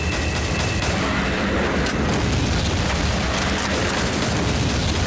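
Dense, continuous booming gunfire from a shotgun in the shooting game XSHOT, loud and sustained throughout with no clear gaps, heavy blasts layered over one another.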